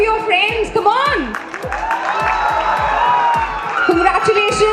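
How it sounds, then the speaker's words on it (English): An audience at a graduation ceremony claps and cheers steadily for graduating students, with scattered whoops and shouts rising over the sustained applause throughout. "You must applaud for your friends, come on!"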